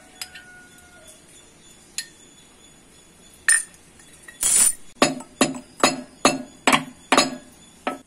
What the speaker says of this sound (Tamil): நல்ல மிளகும் கிராம்பும் சதைச்சு எடுத்துக்கலாம்